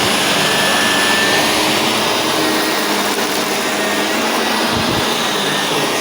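A Shark vacuum cleaner runs on a hard floor and carpet setting, giving a loud, continuous, high-pitched whine and roar held steady from start to finish, close to the microphone.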